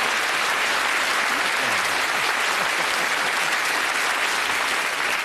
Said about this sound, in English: What about a round of applause for that?